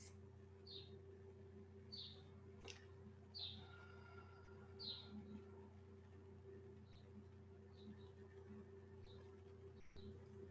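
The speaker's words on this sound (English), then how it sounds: "a bird chirping" Birds chirping outdoors, a handful of faint, short chirps spaced irregularly over a quiet, steady background hum.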